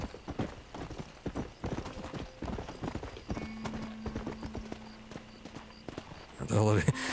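Horse hooves clip-clop in a quick galloping rhythm, then slow, ending with a loud close neigh; voices talk faintly underneath, in the video game Red Dead Redemption.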